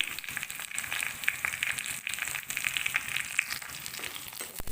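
Ginger garlic paste fries with browned onions in a pan, giving a moderate, steady sizzle with small crackles and occasional clinks.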